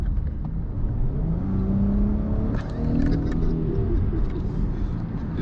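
A 1,000 horsepower V6 car revs nearby, its engine rising and falling in pitch over a steady rumble, with bird coos faintly in the background and no talk.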